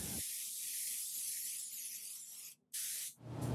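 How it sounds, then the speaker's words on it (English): A spray gun lays fine mist coats of PVA release film onto a gelcoat nonskid surface for a fiberglass mold, producing a continuous close hiss with a brief break and a restart near the end. "fine mist coats of PVA or polyvinyl alcohol"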